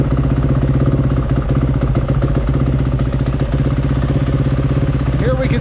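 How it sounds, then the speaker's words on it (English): A KTM 450 SMR supermoto's single-cylinder engine idles loudly and close by, a steady, even thumping rumble that holds throughout with no talking. "So we'll go ahead and fire the bike up."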